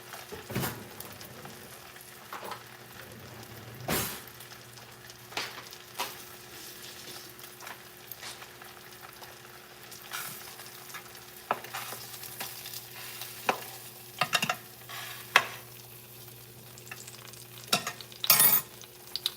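Sausage sizzles steadily in a frying pan next to banana pancakes. Sharp utensil clicks and scrapes interrupt now and then as the sausage is turned, with no voices.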